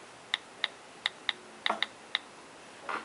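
Sharp key clicks from an iPhone's on-screen keyboard running iOS 5 as a reminder is typed: about eight crisp, evenly spaced taps, close and fairly quiet, with no voices.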